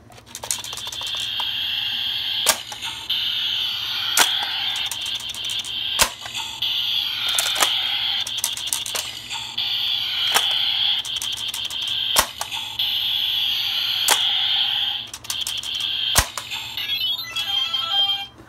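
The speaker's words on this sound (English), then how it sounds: "Actually, let me try to get the random jingle sound." A Kamen Rider Build DX toy plays an electronic jingle: bright, tinkling beeps and chimes in repeated phrases, punctuated by sharp clicks, continuing for a long stretch with no talking.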